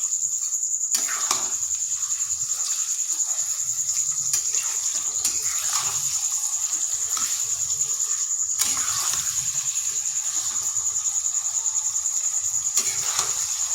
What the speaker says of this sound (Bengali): এরপর অনবরত নাড়তে হবে যতক্ষণ না চিনিটা গলে যাচ্ছে